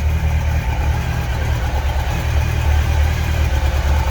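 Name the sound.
carbureted motorbike engine running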